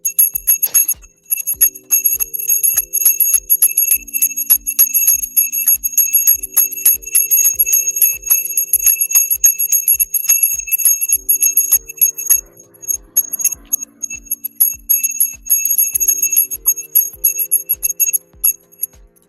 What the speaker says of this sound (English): When I do the bell, because you've never liked the bell.